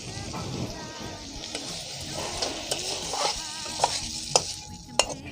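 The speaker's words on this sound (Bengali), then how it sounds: "ঝোলটা একদম শুকনো করতে হবে, তার জন্য একটু জোরে জাল দিয়েছি" Chicken filling for singara cooks on high heat as a spoon stirs it, a continuous close sizzle and frying hiss broken by sharp scraping clacks against the pan that come more often toward the end.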